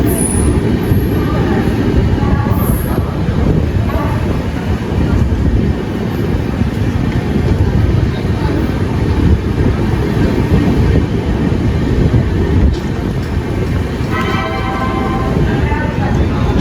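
The Sealdah Rajdhani train runs at speed, heard from inside a first AC coach: a loud, continuous rumble and wheel clatter with faint brief squeals and metallic rattles, steady for the whole stretch.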